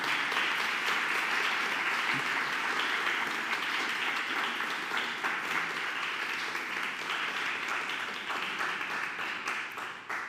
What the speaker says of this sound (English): I'd like to ask for a round of applause for Scott.